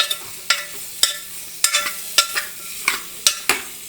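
Boiled pullaganda root pieces are stirred into a chilli masala, a spoon scraping the pan in regular sharp strokes roughly every half second over a soft background sizzle, with no voices.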